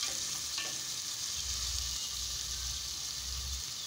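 Onion and tomato fry in oil while a spoon stirs them, producing a steady hissing sizzle with a low rumbling undertone and a few soft scraping touches, all fairly quiet and without talk.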